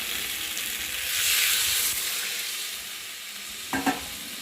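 Water poured into a mustard masala in a hot pan, a loud hissing sizzle that swells and then settles, with a couple of quick stirring knocks at the end.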